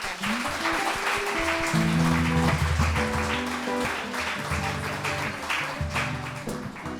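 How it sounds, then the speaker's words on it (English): An audience at a livestreamed community event applauds steadily and loudly throughout, with music playing under the clapping. "let's join Carly in a big round of applause"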